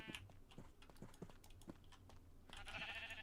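Minecraft sheep bleating amid game sounds and soft keyboard clicks, a short quiet bleat toward the end over faint background ticking.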